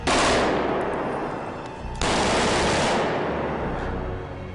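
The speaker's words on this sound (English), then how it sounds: "If you imagine a gun firing in a street, the nearest wall is probably only, I don't know, 50 yards away or something." Gunfire in a city street, a sustained burst of rapid shots with dense wall reflections giving a quick echoing tail, loud and close, with a brief break before a second burst.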